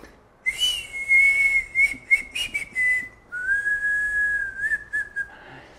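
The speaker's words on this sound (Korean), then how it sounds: "입술로 부는 바람이 아니라 이빨 사이로 소리를 내서 이렇게 부는 건데" A man blows a traditional Han River fishermen's whistle through his teeth, a clear sustained tone held in two long phrases with slight wavering pitch and breathy edges, close and alone.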